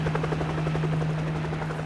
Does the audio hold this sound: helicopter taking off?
yes